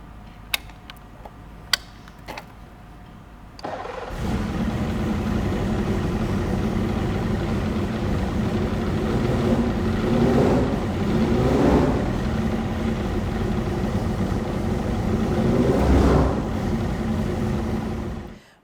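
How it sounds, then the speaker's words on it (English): A 2009 Indy Lights race car engine fires up after a few faint clicks, then runs steadily and loud, its idle rising and falling with light blips of throttle until it cuts off at the end. "You switch that on, then you go to the front and you can start the car."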